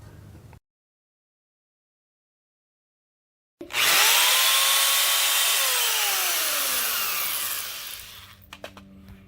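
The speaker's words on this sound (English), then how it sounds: "we're going to go ahead and drill a hole for this guy right here" A power drill bores a hole through the rear frame of a zero-turn mower to mount a hitch, starting abruptly after a silent gap and whining loud and steady for several seconds before winding down, close up with no talk.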